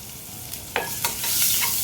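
Chopped onion drops into hot oil in a home kitchen pan and fries with a steady hiss and crackle, sharp bursts of sizzle as pieces land, close and alone without talk.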